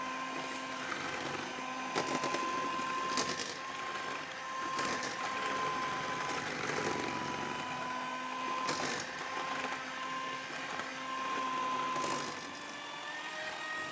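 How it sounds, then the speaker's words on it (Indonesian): Electric mixer running at its lowest speed through cupcake batter, a steady close whirring hum with faint rhythmic scraping as the beaters turn, continuous and without talk. "mixer adonan dengan menggunakan kecepatan yang paling rendah sampai semuanya tercampur dengan rata"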